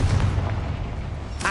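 Confringo, a fiery explosive spell cast in Hogwarts Legacy inside a cramped mine, gives a dense, loud rumbling roar that ends in a sharp, bright burst.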